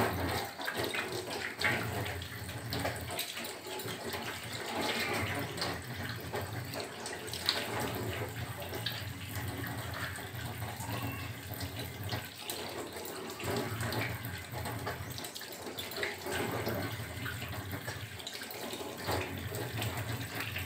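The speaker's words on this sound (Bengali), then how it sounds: "এবার আমি মুখটা ধুয়ে নিচ্ছি।" A tap runs continuously into a sink while someone washes their face, a steady close splashing of water over about twenty seconds with small shifts in intensity and no talk.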